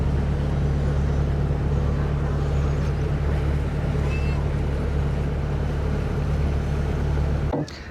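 Boat ride through the Sundarbans: a steady engine drone with water wash, constant and close throughout, dropping off abruptly just before the end.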